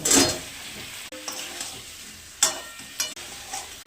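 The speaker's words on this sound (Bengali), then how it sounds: "একটু কষিয়ে নেবো" Spices and tomato paste for a potato curry sizzle in a pan, broken by a few sharp spatula scrapes and knocks as they are stirred; no speech.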